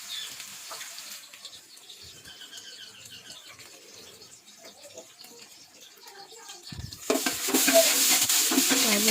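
Onions frying in a pan of Dalda ghee and cooking oil, a soft continuous sizzle with occasional stirring scrapes that swells to a louder, brighter crackle near the end.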